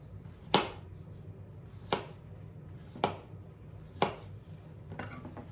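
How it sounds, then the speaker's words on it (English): A knife slices food thinly on a cutting board for a chicken casserole: four or five distinct, evenly spaced sharp chops land about a second apart, close and crisp over a quiet background. "I'm gonna just slice it thinly"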